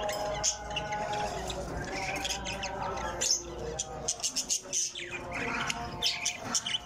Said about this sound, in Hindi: मैं आपको आज अपना बजीज के बेबीज़ दिखाता हूँ